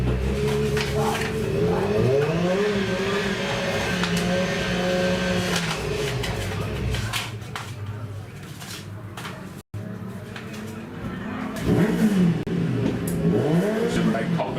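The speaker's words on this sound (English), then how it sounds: "Superbike Cup machines now going out on track." Superbike Cup motorcycles heading out on track at an Ulster Superbike club meeting at Enniskillen, engines revving and rising and falling as the bikes pass, with a brief drop-out partway through.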